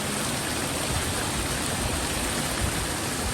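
Water from higher ground flowing down into a tilapia fish pond in Betong, heard as a dense, even rushing and splashing noise, loud and unbroken throughout with no voices.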